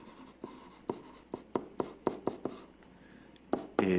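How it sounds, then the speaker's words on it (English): Pen strokes scratch across paper in a quick, uneven series of short taps and scrapes, close and quiet, with no talking. "So I'm going to go ahead and write over here"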